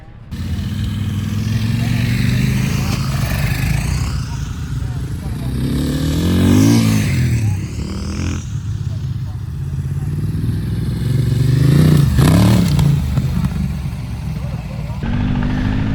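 Adventure motorcycles run slow cornering drills, engines droning nearby with gentle rises and falls in revs as bikes lean through turns; a voice talks over the engine noise throughout.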